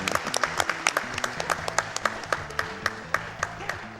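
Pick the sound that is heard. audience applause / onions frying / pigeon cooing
audience applause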